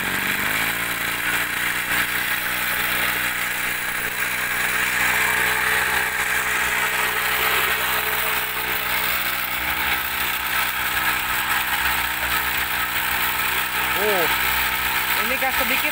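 A TU26 mini engine drives an axial blower water pump at light throttle, a loud, steady droning hum with a constant pitch that runs throughout, with talk over it.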